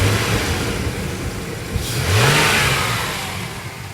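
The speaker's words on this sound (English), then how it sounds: "Give it a little rev." A Jeep Cherokee's 3.7 V6 with an aftermarket exhaust runs at a steady idle, then gets one brief rev near the middle that swells and falls back. The sound is close and fairly loud with no talk over it.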